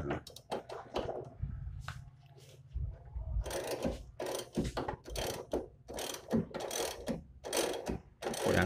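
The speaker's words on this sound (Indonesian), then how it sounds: "Pakai kunci ring 19 ya." A 19 mm ring spanner ratchets and clicks against a nut on the front shock absorber of a Suzuki Carry, with quick bursts of metallic turning and tapping, close and fairly quiet.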